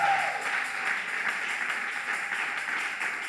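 A church congregation applauding and cheering to welcome a woman giving a testimony: dense, steady crowd clapping mixed with a bright wash of voices, sustained throughout at moderate loudness.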